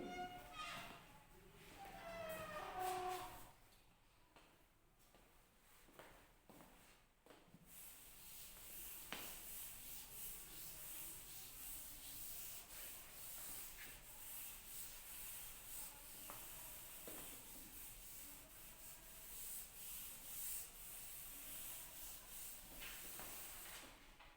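A duster rubs writing off a classroom board during an English revision lesson. After brief muffled talk at the start, a faint, continuous swishing scrape goes on for most of the stretch.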